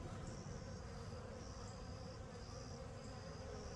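Honey bees from a new package swarm around the hive, a dense continuous buzzing close by, faint and steady throughout.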